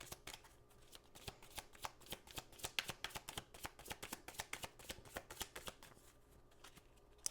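A deck of angel cards is shuffled by hand, a quick, close run of crisp riffling slaps and flutters in a steady rhythm that lasts several seconds and then tapers off.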